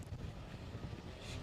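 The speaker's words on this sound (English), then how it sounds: "It's incredibly windy" Strong wind buffets the microphone at an outdoor kart circuit during a winter sprint race meeting, a steady low rumbling roar filling the whole clip with no voices.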